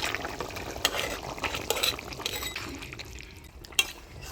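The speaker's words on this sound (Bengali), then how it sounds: "তরকারির ঝোল জাল হয়ে আসছে, এবার ভাজে রাখা এই মাছগুলো দিয়ে দিই" Fried rita fish go into simmering potato curry gravy in a Bengali kitchen, giving soft wet bubbling and sloshing with a few light clinks of utensils against the pan.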